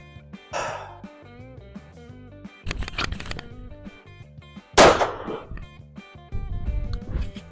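Handgun shots are fired at a shooting range during a warmup drill, a few sharp close cracks spaced apart amid quieter handling sounds.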